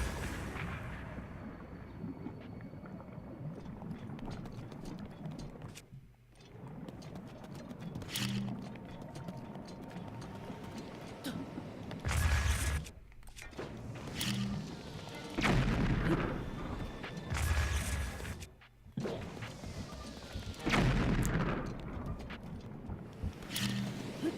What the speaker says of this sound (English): Right away, throw a bomb.